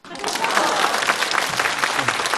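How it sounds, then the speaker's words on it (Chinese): Audience applause fills a comedy stage show, a dense, steady clatter of many hands clapping close and loud for the whole stretch, with no voices over it. "谢谢朋友送给我这么多热情的掌声"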